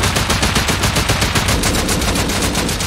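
Loud automatic gunfire from the survival game Rust, a rapid, unbroken stream of close shots that runs for about three seconds with no pauses and no voices.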